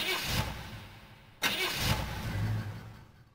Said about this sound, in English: he is actually hotwiring and stealing this car